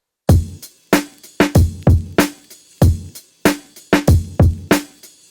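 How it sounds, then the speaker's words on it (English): Boom bap drums programmed in FL Studio: punchy kick and snare hits with hi-hat and a ride cymbal loop, playing a loud, steady swung groove with sharp attacks and short decays, drums alone. "So all of the drums together, this is how they sound like."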